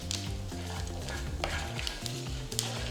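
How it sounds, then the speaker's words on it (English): Chana dal, mustard seeds and cumin seeds roast in hot oil with a dense, constant crackling sizzle and small pops, close up, over a low melodic backing. "add a teaspoon of chana dal, a teaspoon of mustard seeds and a teaspoon of cumin seeds and roast well"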